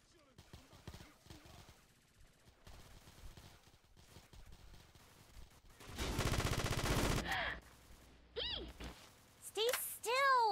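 Video game gunfire crackles in short bursts, with a loud dense fusillade in the middle and sharp sweeping effects toward the end, amid quiet game sounds.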